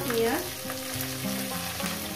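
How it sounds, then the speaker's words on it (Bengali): Garlic and green chilli fry in a pan with a continuous close sizzle and some stirring, no voices present. "রসুনটা আমার ভাজা হয়ে গেছে, এরপর দিয়ে দেবো আমি কাঁচা লঙ্কা"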